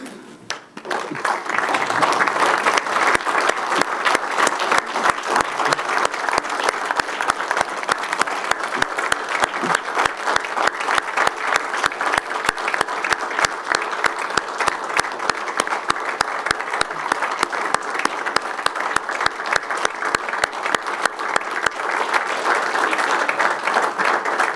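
A large audience at an MBA graduation ceremony breaks into dense, sustained applause that starts abruptly and holds at a steady, loud level for over twenty seconds, with many hands clapping at once and no voices rising above it.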